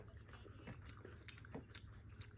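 Faint chewing of a strong vegetable during a taste challenge comes through as soft, close crunches and bites in an uneven rhythm over a low background hum.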